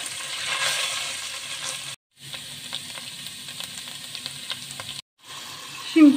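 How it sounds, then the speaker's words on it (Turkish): Tomato paste and spices frying in a pan, with a steady close sizzle and light stirring scrapes, briefly cut to silence twice. "Salçamızın kokusu çıkana kadar kavuruyoruz."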